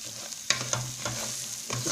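Meat frying in a pot for rice with peas, a steady sizzle broken by a few scraping stirs of a utensil against the pot, close and moderately quiet.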